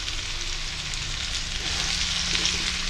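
Sambar with pumpkin and tomato cooks in a pot, giving a steady close sizzle and bubbling hiss that grows slightly louder toward the end, with no voices.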